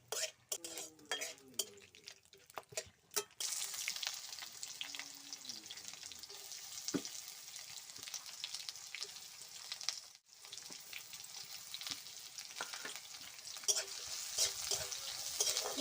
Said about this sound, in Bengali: তেজপাতা শুকনো লঙ্কা দারচিনি এলাচ ফোড়ন দিচ্ছি।